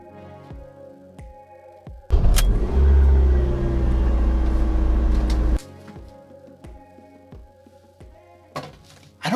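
A car engine starts with a sudden roar and rumbles loudly and steadily for about three seconds before cutting off abruptly, surrounded by faint clicks and knocks.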